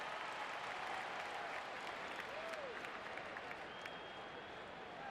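Fans in a football stadium clap during an NFL game, a broad steady wash of applause from a large crowd heard at a distance, with faint whistles and tones above it.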